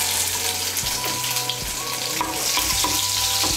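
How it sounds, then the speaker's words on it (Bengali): Crushed garlic cloves frying in hot oil in a pan, a loud steady sizzle with a low hum beneath and occasional stirring scrapes, close up and with no voices. "রসুনের কোয়াগুলোকে তেলের সঙ্গে মিশিয়ে নিয়ে একটু ভেজে নেব।"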